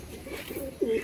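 A pair of Kaldoma Madras pigeons, a high-flying breed, coo softly and briefly, the low throaty calls growing slightly louder at the end.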